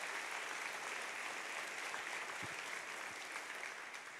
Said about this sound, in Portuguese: você podia dar uma salva de palmas por causa disso